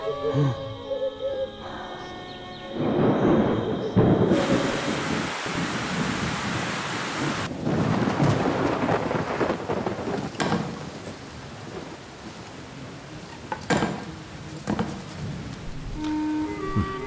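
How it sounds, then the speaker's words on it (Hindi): Heavy rain pours steadily, with a rumble of thunder and a few sharp cracks; the downpour stays loud and close throughout, with no talking. "बारिश तो रुकने का नाम ही नहीं ले रही।"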